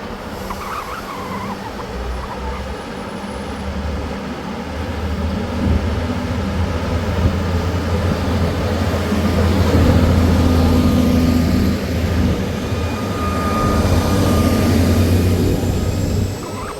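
Train pulling out of Hexham station, a low diesel rumble that builds steadily and stays fairly close and loud as it moves off.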